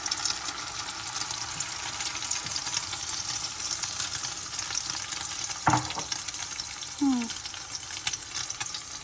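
Batter sizzles in a hot pan with a soft, continuous crackle, fairly quiet and close, broken by a couple of brief clinks and scrapes.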